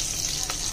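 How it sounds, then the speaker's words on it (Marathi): Asafoetida and a few curry leaves sizzle in hot oil for a moong dal khichdi, a soft, steady frying hiss close by with no talk over it. "हिंग थोडासा घालायचा आणि कढीपत्ता घालूया आपण 4-5। चांगलं तेलात भाजून घेऊ व्यवस्थित।"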